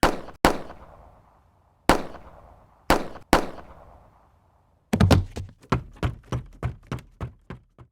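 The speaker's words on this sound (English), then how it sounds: "The gunshots, the body falling, the butler with a gun." Sharp, loud gunshots ring out with echoing tails: a few spaced single shots, then a rapid burst of many shots in quick succession.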